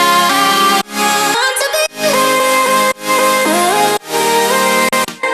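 Layered supersaw synth chords in a future bass style are topped by a pitched vocal chop melody, sounding bright and loud in four sustained chord hits with brief gaps, with no talk.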